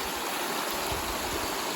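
Water in a stream near a sluice box at a gold and garnet prospecting spot in Idaho City runs steadily, a full, even rush with a constant wash and no voices.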